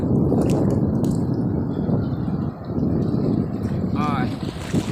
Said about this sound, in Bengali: প্রচণ্ড জোয়ার উঁচু হয়ে আসছে দেখো